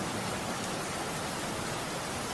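Heavy rain pours down outside in a steady, dense hiss that stays even and unbroken from start to finish, with no voices.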